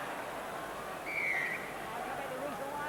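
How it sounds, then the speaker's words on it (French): A referee's whistle blows once, a short sustained tone rising over a loud stadium crowd at a 1997 England versus New Zealand rugby test match, with a commentator talking softly beneath. "Il a sifflé l'arbitre, il a vu un en avant."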